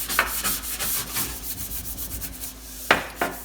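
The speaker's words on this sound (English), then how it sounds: "Next step is to take a brush and scrub it gently." A brush scrubs gently at a stovetop ignition part during cleaning, giving a steady close rasping rub with a couple of sharper scrapes near the end, no voices.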